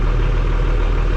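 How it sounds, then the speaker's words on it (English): New Holland tractor engine idling with a suspected ticking from the valves, a steady low heavy rumble, close and loud, over a very brief moment with no talk. "it sounds like it's making some ticking noise"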